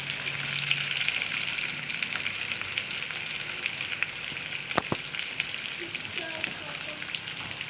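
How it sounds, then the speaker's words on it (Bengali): Cut potatoes fry in oil in a pan after browned onions, a continuous soft hiss of sizzling with a couple of brief utensil knocks. "ভাজা হয়ে গেছে, আমি কেটে রাখা আলুগুলো দিয়ে দিব"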